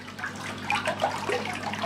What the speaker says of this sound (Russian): начинает вода просто выплескиваться из аквариума